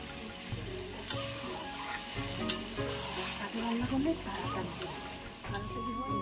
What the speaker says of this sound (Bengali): মাংসের মধ্যে গামলা ধোয়া জলটা দিয়ে দিলাম, গরম জল